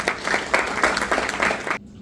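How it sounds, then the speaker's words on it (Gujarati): An audience at a hospital event applauds to welcome a speaker, a brief burst of dense clapping that cuts off abruptly near the end. "તો ચાલો જોરદાર તાળીઓ સાથે સ્વાગત કરીએ"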